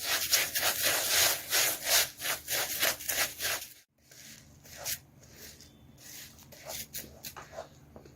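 A mixture stirred after lemon juice goes in, giving rhythmic scraping and rubbing strokes that are loud and regular, then a short pause and softer, sparser stirring.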